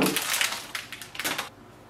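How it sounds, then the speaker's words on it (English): Ink bottles for an HP Smart Tank 5101 printer being pulled out of plastic packaging, producing close crinkling and rustling bursts that stop abruptly, leaving quiet room tone. "Take the ink bottles out of the plastic packaging."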